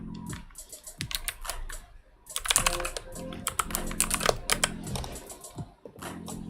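Fingers type rapidly on a columnar-layout computer keyboard, a close, crisp stream of key clicks in quick bursts with a brief pause near the start before a dense flurry resumes.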